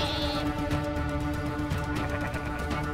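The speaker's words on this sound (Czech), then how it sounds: "on prostě vzal ovci a utekl s ní" A sheep bleats loudly and close in the video game Kingdom Come as the player carries it off, one drawn-out wavering cry over a steady background of game ambience.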